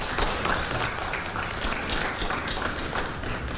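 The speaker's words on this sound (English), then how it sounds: "Let's give her another round of applause." A crowd claps steadily at a nuclear power and energy strategic plan launch, a dense, even patter of many hands sustained throughout, moderately loud with no talk over it.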